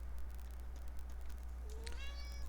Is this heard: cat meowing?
yes